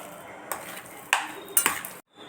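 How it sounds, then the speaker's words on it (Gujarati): A spoon clinks and scrapes against a metal bowl while potato vada filling is mixed with lemon juice, salt and garam masala, giving a few sharp taps and stirring scrapes close up. "લીંબુ 1 ટીસ્પૂન જેટલું એડ કરી દેવાનું અને આપણે બધી વસ્તુ હવે મિક્સ કરી લઈશું।"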